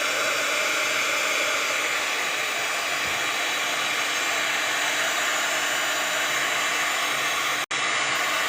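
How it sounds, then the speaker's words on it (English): A hair dryer blows continuously to dry a wet painting, a loud, steady whooshing roar that runs almost without a break, cutting out only for a moment near the end. "where is my dryer? Let's get him dry."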